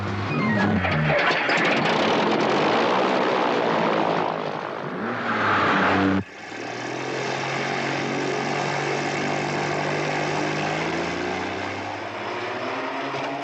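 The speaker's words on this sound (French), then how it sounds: "Depuis quand tu sais piloter un avion?" Propeller airplane engine droning steadily and loudly in flight, a broad continuous roar with a shift in pitch and tone partway through, no voices over it.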